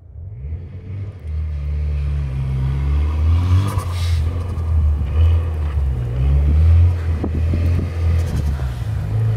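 A Mitsubishi Evo X doing donuts in a parking lot, its engine rumbling and revving loudly with rising and falling pitch as it circles, continuous and close.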